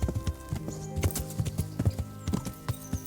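A horse moves through water in Kingdom Come: Deliverance, its hooves striking in a quick, irregular clip-clop rhythm of sharp thuds with splashy accents, close and clear, and no one speaking over it.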